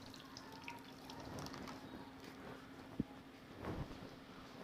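Water is poured into a chicken korma marinade of yogurt, giving a soft, close liquid splash and trickle with one small sharp knock partway through.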